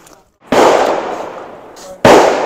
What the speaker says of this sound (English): We finna take a couple shots and let y'all guys see how it functions, see how it runs